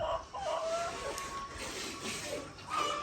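A flock of about sixteen chickens clucks and a rooster calls nearby on a small farm in Ghana, with steady barnyard noise throughout and no talking.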